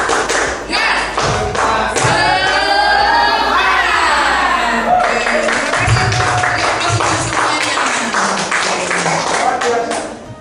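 A crowd of children at a school assembly claps a fast rhythmic spirit clap, with shouts and cheering over dense, loud tapping; a leader's voice joins in.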